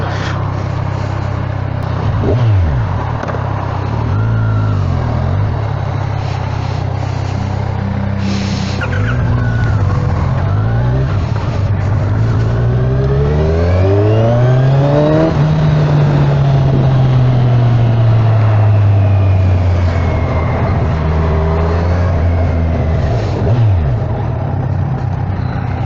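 A Kawasaki Z1000SX motorcycle engine revs up and down in rising and falling sweeps over a steady, loud road rumble while riding.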